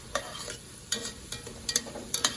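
Onions and vegetables sweating and sautéing in a pan for braised short ribs: a soft continuous sizzle broken by quick stirring scrapes and clicks in short bursts, close by, with no voices.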